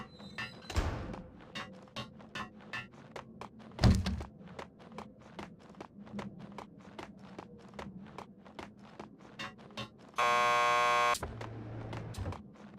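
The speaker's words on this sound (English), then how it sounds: "Just press the buzzer by the door." A harsh electronic door buzzer sounds once for about a second in a police station lockup in Max Payne 2, following a steady run of footsteps and a heavy thunk.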